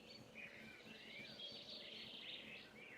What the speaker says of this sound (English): Oh, that's nice. The birds.